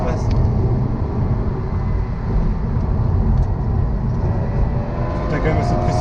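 A 2007 Mazda RX-8 with a 13B rotary engine (192 hp, 220 Nm) cruising at 90 km/h on cruise control, giving a loud, steady road and engine drone that fills the cabin with no breaks.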